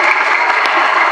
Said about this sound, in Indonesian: Kami boleh minta tepuk tangan yang meriah